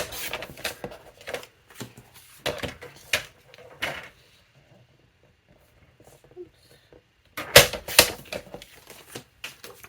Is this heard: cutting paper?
yes